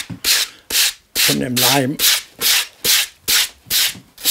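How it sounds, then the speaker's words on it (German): A wooden chessboard with inlay is sanded by hand to strip leftover tape and newspaper residue, a loud rhythmic scrape in about nine even back-and-forth strokes, with a brief spoken phrase in the middle. "Mit der Hand werden erstmal die Reste von den Klebestreifen und vom Zeitungspapier abgeschliffen."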